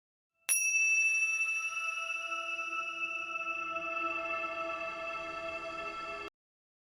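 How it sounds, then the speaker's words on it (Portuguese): A single bell is struck once to open a spiritist prayer session. The tone is loud and clear and rings on for about six seconds with steady harmonics, fading slowly, with no voices over it. "a nossa vibração começa com este sino"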